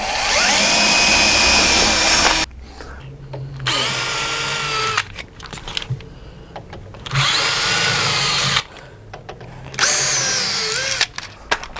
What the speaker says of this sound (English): I'm just going to drill 4 holes to enable us to sort of continue squaring up the shutter